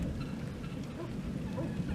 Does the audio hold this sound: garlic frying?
no